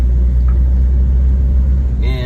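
Interior of a 1990 Toyota Land Cruiser FJ62 with a MagnaFlow exhaust and about 208,000 miles, a loud, deep steady engine drone and road rumble while driving, with a brief tonal whine near the end.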